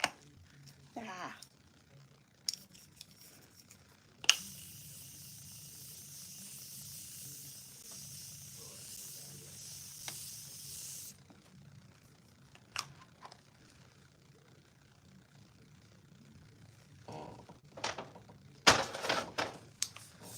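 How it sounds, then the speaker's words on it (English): Morphe Continuous Setting Spray is misted onto a face in one long, continuous hiss of about six seconds. Quiet clicks, taps and rustles come before and after it. "I'm gonna spray my face with the Morphe Continuous Setting Spray."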